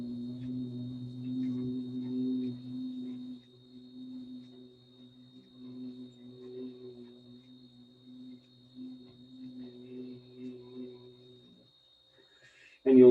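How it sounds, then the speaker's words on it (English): A person does bumblebee breath, a long, slow hummed exhale through the nose with lips vibrating. It is a steady low buzzing drone that fades gradually and ends abruptly near the end. "you're going to let the lips vibrate, making the sound of a bumblebee"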